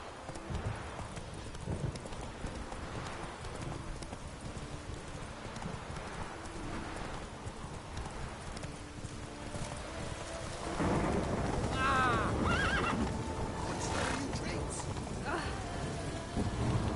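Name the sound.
horse galloping in video game The Witcher 3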